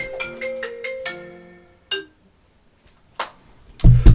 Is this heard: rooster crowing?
no